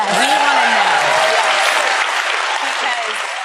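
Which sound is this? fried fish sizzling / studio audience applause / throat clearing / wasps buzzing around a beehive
studio audience applause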